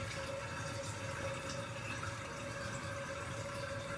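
Water hissing steadily into a TOTO toilet tank through its fill valve, a soft continuous rush with a faint whistling tone and light trickling, heard close and alone.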